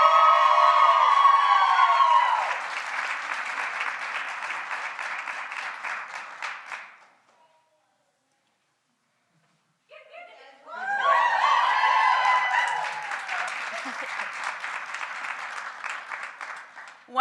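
Crowd applause at a nursing hooding ceremony, a dense wash of clapping with some cheering that stops for a few seconds of near silence, then swells back loud and continues steadily.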